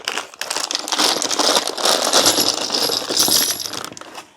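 A bag of small metal fittings and bits for an Amazon laptop table tipped out onto the floor, giving a loud, close cascade of clinking and jingling pieces with bag crinkle that tapers off over a few seconds, with no talking.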